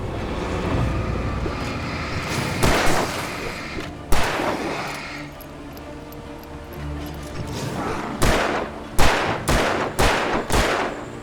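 Gunfire in the Alan Wake video game: heavy shots fired one by one with gaps between them, then a rapid cluster near the end, loud against an ambient game rumble.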